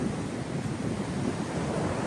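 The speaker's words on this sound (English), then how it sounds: "Look at these waves." Ocean surf washes onto the shore in a continuous broad roar, with wind buffeting the microphone throughout and no voices heard.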